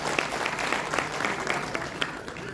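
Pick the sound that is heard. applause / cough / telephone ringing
applause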